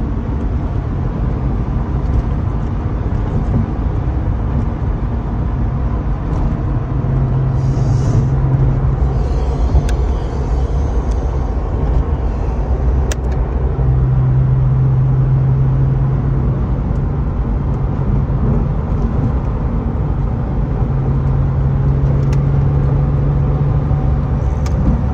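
A Porsche with a six-speed manual stick shift cruises along, its engine holding a steady, loud low drone with tyre and road rumble throughout and slight pitch changes as it drives.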